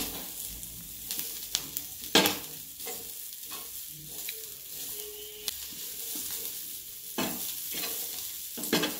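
Roasted sweet corn being stirred with salt and red chili powder in a pan, a steady soft sizzle under repeated scraping, clinking stirs at close range.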